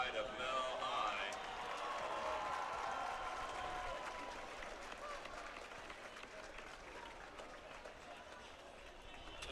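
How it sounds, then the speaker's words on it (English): A large outdoor crowd at a Friday night high school football game in Melbourne claps and cheers, loudest at the start and slowly fading into a diffuse rumble of crowd noise. "So another round of applause for the pride of Mel High."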